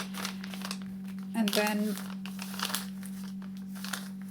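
A paper bag being folded by hand for a mini album, with soft crinkling and creasing that swells into a louder crackling burst midway, heard under a person talking.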